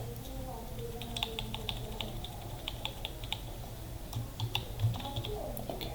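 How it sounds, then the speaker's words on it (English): Steady, fairly quick typing on a computer keyboard, with irregular key clicks close by and a low hum underneath. "I'm typing it"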